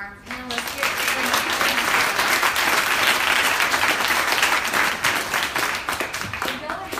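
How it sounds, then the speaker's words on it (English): An audience at a New York panel event applauds the panelists, dense steady clapping filling the room at close range for several seconds before tapering off toward the end. "just one more round of applause for our panelists here"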